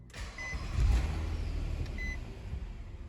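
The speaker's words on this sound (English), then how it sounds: "once it starts beeping, you can go ahead and start it as you normally would" A Nissan Maxima's stop-start button gives two short, clean electronic beeps, the key fob's battery dead, over a low steady rumble inside the car.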